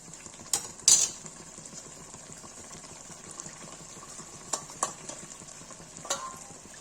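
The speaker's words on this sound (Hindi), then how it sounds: "देखिए काजू पिसा हुआ डाल देते हैं।" Ground cashews go into a creamy malai chicken gravy in a pan. There is a quiet bubbling simmer, and a spoon clinks and scrapes against the pan a few times.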